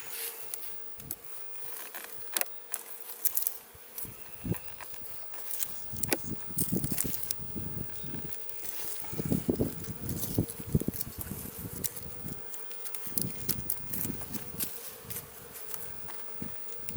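Honey bees buzz steadily around an open beehive during an April inspection, with a continuous close drone, louder swells as bees pass near, and occasional soft knocks and handling noises.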